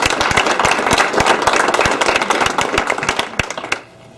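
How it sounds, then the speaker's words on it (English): An audience at a basketball officials' sports banquet claps and applauds for a few seconds, a dense patter of hands that thins out and stops near the end. "Let's give a round of applause for Bianca Grimshaw."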